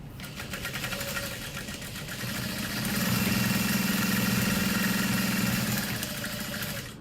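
A Juki 1181 sewing machine stitches down the edges of a key fob at a long stitch length, a steady close whirring run that speeds up and holds an even mechanical hum.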